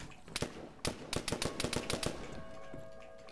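Bursts of automatic gunfire in ARMA 3 crackle at a distance in quick irregular volleys, sharp rapid shots fairly faint, followed by a low lingering hum.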